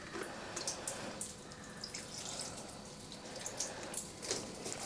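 Water splashes and patters onto Hoya plant foliage during watering in a very hot space, a steady close spray with scattered droplet hits and no talking.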